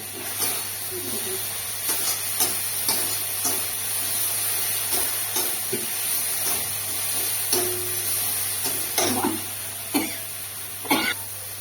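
Spice masala for a vegetarian bottle gourd ghonto being sautéed in oil until the oil separates, a steady soft hiss with scattered stirring scrapes and taps from a spoon, and a low hum underneath.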